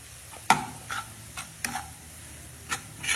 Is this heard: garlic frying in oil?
yes